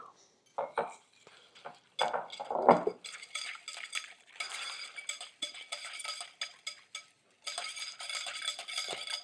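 Chicken ribs being mixed by hand with a honey sauce and sesame seeds in a bowl, with repeated wet stirring and light clinks of utensil against the bowl, close and moderately loud, with short pauses, and no talking.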